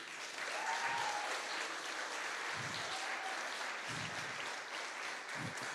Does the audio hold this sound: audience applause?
yes